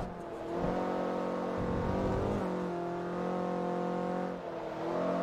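A Toyota Yaris engine in Forza Motorsport 3 holds a steady, buzzing drone through a long sweeping corner on a racetrack, pitch dipping and rising slightly as the car works round the bend.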